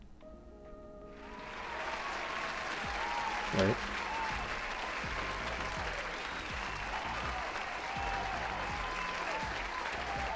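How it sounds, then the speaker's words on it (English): Applause in a live build stream, a continuous wash of clapping that swells after the first second and holds steady at moderate level, with a brief spoken word partway through. "let's get some applause in here"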